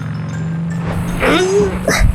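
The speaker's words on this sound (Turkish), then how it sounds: "Motor bile zorlanıyor buradan çıkmak için." A car engine revs and strains while climbing a steep slope, a rising whine holding over a steady low drone, with tire noise and voices talking over it.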